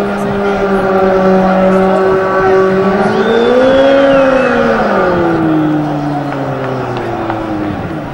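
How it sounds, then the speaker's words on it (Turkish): A car does a tire burnout, its engine revving up and down with a sustained, loud roaring whine that rises, peaks and slowly falls. "Yanıyor lastik yanıyor."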